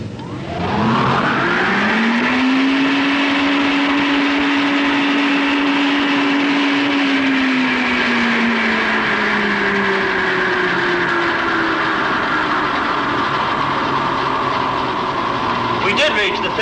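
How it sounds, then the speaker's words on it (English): A wind tunnel blower spins up and runs steadily at high speed, around 210 miles per hour, with an airfoil mounted in the test section. It makes a loud, continuous roar with a rising then falling tonal hum, heard alone for most of the stretch. "when we start the blower, we should expect the same speed as before"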